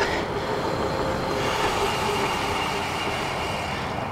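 A Tenways CGO600 Pro electric bike braking hard during a brake test, with a broad rushing roar of wind and rolling noise that holds steady throughout, loud and close.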